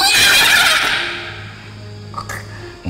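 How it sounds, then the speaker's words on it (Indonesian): A horse at a grave site whinnies loudly and close, a long shrill neigh trailing off into a lower rumble, with faint background voices near the end. "Kuda yang sana."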